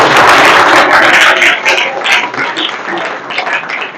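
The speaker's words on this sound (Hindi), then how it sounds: "जोरदार तालियां।" Loud applause for schoolchildren at a youth group gathering, dense clapping right from the start that slowly thins and softens, with no voices.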